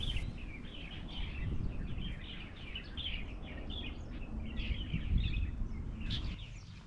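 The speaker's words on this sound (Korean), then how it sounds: "특히 새들이 제잘제잘 지저귀는 소리에 절로 힐링이 되는 것 같아요." Birds chirp and twitter repeatedly along a park walking trail near Seoul, with many overlapping calls at moderate distance over a steady low outdoor rumble.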